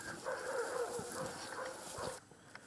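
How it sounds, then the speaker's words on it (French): Dogs barking far off in the night countryside, a few muffled barks and yips in a steady run over faint background hiss, then fading out near the end. "Seuls les aboiements de chiens au loin se font entendre."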